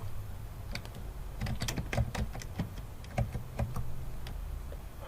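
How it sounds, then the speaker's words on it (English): Keys clatter on a computer keyboard as a submittal description is typed into project software, irregular clusters of close, light clicks with brief pauses over a quiet room hum. "and then begin typing your submittal description."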